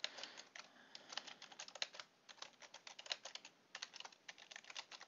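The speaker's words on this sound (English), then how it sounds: "My typing skills are very, very high." Fast, quiet typing on a computer keyboard, a continuous patter of clicky keystrokes with brief pauses and no voices.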